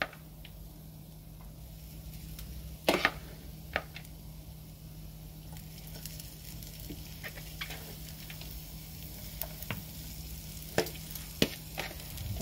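Cauliflower hash brown mixture with onion and chive frying in a pan, a soft steady sizzle with scattered small pops and spoon scrapes, quiet and close, no talking.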